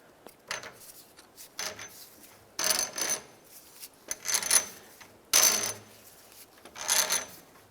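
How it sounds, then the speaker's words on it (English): A pry bar works loose the inner drag link on a 1994-2002 Dodge Ram, producing a series of sharp metallic clinks and scraping clanks in irregular bursts separated by quiet pauses, fairly close and without speech. "I'll use a pry bar. Carefully get in between that slot, and now we can slowly try to turn this in one direction and the other"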